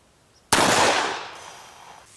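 A single sharp shot from a .357 Magnum +P Smith & Wesson 686 Plus revolver, one loud crack followed by a long, fading echo outdoors.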